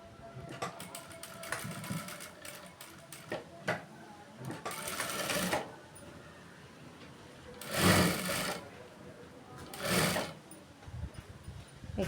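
A sewing machine stitches the hem of a blouse in close, loud bursts of rapid needle chatter separated by short pauses.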